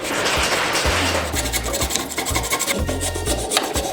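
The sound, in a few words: metal file filing PVC pipe piece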